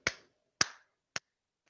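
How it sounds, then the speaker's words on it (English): Three slow, evenly spaced sharp hand claps ring out close and crisp in an otherwise silent room, with a fainter fourth tap at the end, a deliberate contemptuous slow clap. "A kind of slow, contemptuous, slow clap, right?"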